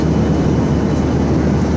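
Steady airplane cabin roar during a flight, a dense, even engine and air rush with deep rumble, loud and constant with no talking.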